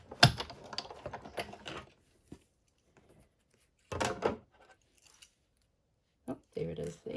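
Small scissors snipping a tiny paper unicorn horn from card scraps, a few quick crisp cuts in short bursts separated by pauses, close and fairly quiet.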